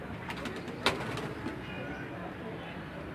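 Pigeons on a rooftop coo softly amid steady outdoor noise, with one sharp tap or flap near the start and a voice speaking faintly.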